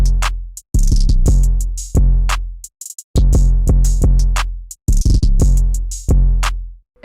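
A programmed hip hop drum pattern for a wavy trap-style beat plays loud and close: booming sustained 808 bass hits with snappy percussion and fast hi-hat-like ticks in a syncopated repeating groove, no voices.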